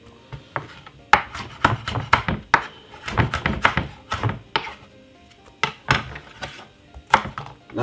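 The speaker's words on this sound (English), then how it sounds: "Cut it up very small" A knife chops a pepper into small pieces, with a quick, uneven run of sharp, close taps against the board and brief pauses between bursts.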